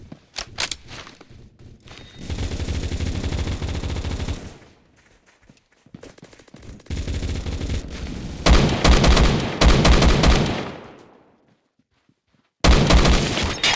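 Gunfire in the Roblox shooter Phantom Forces, with several loud, close automatic bursts separated by short quiet gaps and rapid rattling volleys that stop and start again.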